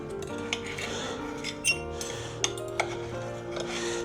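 Small kitchen clinks and knife taps on a board while cooked chicken is cut into medium pieces for an egg soup, sparse sharp ticks over a quiet background.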